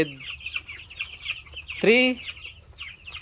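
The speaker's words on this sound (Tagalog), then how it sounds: "ang ating mga kasisiwan. Nailipat na nating lahat." Chicks peep and cluck in a coop, with several short high peeps and one louder call partway through, heard fairly close.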